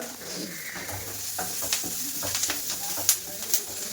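Curry leaves sizzle in hot oil for a beetroot stir-fry, a steady close frying hiss with small crackles and pops, under a voice talking.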